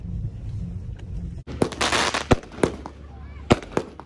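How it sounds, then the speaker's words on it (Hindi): Fireworks at a Kuwait National Day party, a run of sharp bangs and crackling bursts heard a little way off, loud and irregular, with a few faint whistles and some talk. "फायर वर्कस का टाइम हो गया,"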